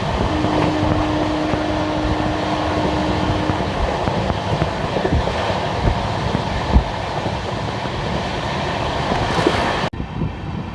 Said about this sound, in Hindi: बाकी अपनी ट्रेन भाई साहब क्या भाग रही है भाई